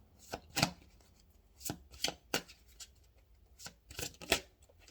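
Tarot cards being shuffled and drawn for a reading, a run of sharp papery snaps and flicks spaced irregularly and heard up close, with no voices.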